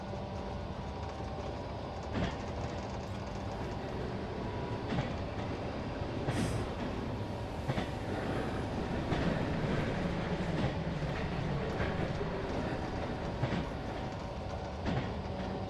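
A train in the early access sim Running Train rolls steadily along, with a continuous rumble and a rhythmic clickety-clack of wheels. Periodic sharp squeals and clanks sound over it throughout, and no one speaks.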